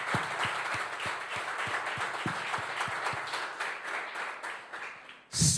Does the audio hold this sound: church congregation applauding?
yes